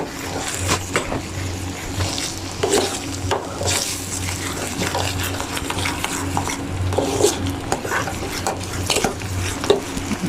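Potato halwa stirred in a pan, a steady scraping of spoon against metal with soft sizzling, repeated strokes running continuously at close range with no talking.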